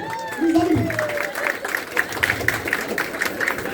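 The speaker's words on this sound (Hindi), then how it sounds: "दोनों तालियां बजाते हैं" Guests applauding at an engagement ceremony, a moderate burst of clapping that swells, then continues as scattered claps under ongoing voices and chatter in the room.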